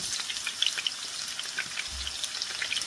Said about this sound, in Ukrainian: Обсмажуємо кабачки до легкого рум'янцю